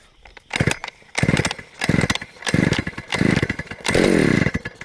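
A vintage Homelite 330 chainsaw gets five loud, close pull-start attempts, each a short burst of engine sputter, and the last catches into a steady running roar that begins to rev up.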